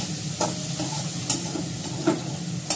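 Onions and two bay leaves stirred and fried in a pan, a steady sizzle with a few sharp scrapes of the spoon at intervals, close and alone.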